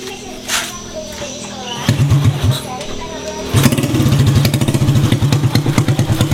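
A motorcycle fitted with a new Mascot piston starts up and settles into a steady, throbbing idle with a deep exhaust rumble, close and loud, after some clattering handling noises at the start.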